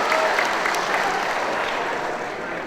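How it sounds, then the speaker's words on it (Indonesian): Party supporters at a political gathering clap together in a loud, steady wave of applause that eases slightly toward the end, with no clear voice above it. "Tepuk tangan semuanya."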